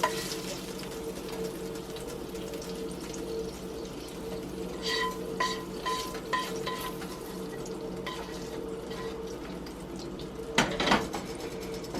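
Thin-sliced Steak-Umm beef sizzles in a pan with a soft steady hiss, punctuated by scraping and clinking of a metal utensil against the pan, including a sharper clatter near the end, no talking.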